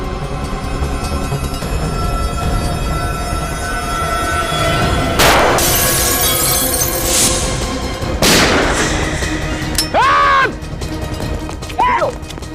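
Gunfire breaks out during a tense action scene: loud, close booms and cracking shots over a dense, continuous roar, a few of them standing out as distinct heavy blasts, followed by whistling, ricochet-like sweeps near the end.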